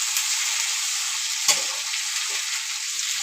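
Tomato pieces frying in hot oil give off a loud, continuous hiss and sizzle, with a spoon knocking once or twice as they are stirred.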